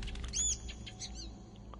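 Birds burst into flapping flight in Assassin's Creed Chronicles: China, a quick flutter of wings with a few high chirps, faint and brief over a low ambient hum.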